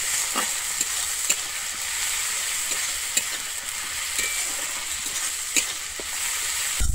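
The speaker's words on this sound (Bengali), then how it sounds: "আমি আদা রসুন বাটাটা কিন্তু দিয়ে খুব ভালোভাবে কষিয়ে নেব, যতক্ষণ না আমার রসুনের কাঁচা গন্ধটা যাচ্ছে।" Ginger garlic paste frying in a pan for a Bengali egg curry, a steady soft sizzle with a scraping spatula stirring now and then, close by and with no talking.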